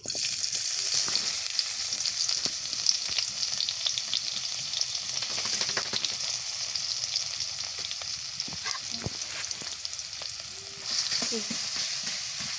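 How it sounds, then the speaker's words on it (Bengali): Chopped onions frying in hot mustard oil in a kadai. A loud, continuous sizzle runs throughout, with scattered stirring scrapes and pops close by. "পেঁয়াজটা কিন্তু আমি ভালো করে ভাজা ভাজা করব"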